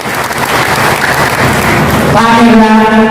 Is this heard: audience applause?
yes